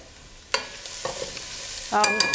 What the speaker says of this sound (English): we're going to set them aside to cool while our vegetables saute